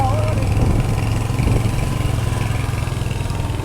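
A vehicle engine revs steadily in first gear on a hill road near Guru Shikhar in Rajasthan, with a loud, close, continuous drone and a voice speaking over it at the start.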